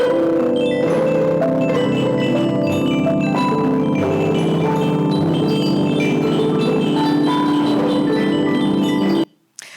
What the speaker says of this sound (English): here's the sound of the Milky Way.